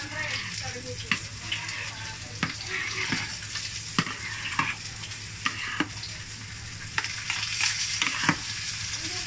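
Latik frying in a pan, a continuous close sizzle with repeated sharp scrapes and clacks of stirring at irregular intervals.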